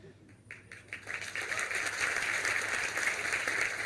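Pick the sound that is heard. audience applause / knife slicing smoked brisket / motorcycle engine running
audience applause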